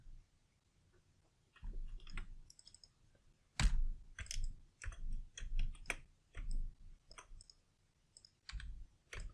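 Computer mouse clicks in pipe-modeling CAD software such as AutoCAD Plant 3D, a series of sharp, close clicks in irregular bursts with short pauses between, alone without talk.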